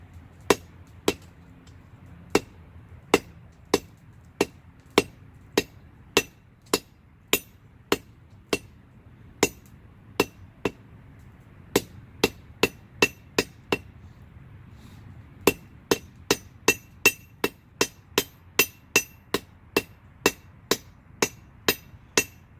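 A blacksmith's hammer striking hot steel while forging a left-handed J hook, sharp ringing blows in a steady rhythm, about two per second. There is a short pause, then a faster run of strikes, loud and close, with no talking.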